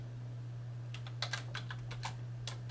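Quick, light keystrokes clatter on a computer keyboard in a short burst of typing. The clicks are faint and close, over a steady low electrical hum.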